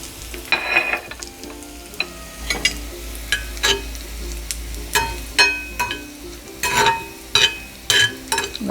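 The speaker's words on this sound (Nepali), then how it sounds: "अब हाम्रो यो झान्नलाई तयार भइसकेको छ। अब झान्दिउँ।" Dried red chillies, broken into pieces, fry in hot oil with garlic for tempering Jumla-style bean dal, giving a steady close sizzle with repeated sharp crackling pops that build toward the end, no voices.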